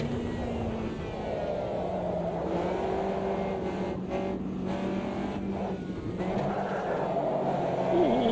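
Race car engines in a sim racing video game during an online race with overtakes, a continuous droning whine that rises and falls in pitch as cars accelerate and shift, heard steadily throughout without speech.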